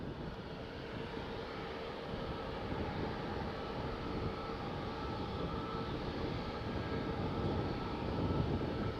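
Citation business jet at Faro airport, a steady, broad engine roar that holds at a loud, even level for the whole stretch with no voices over it.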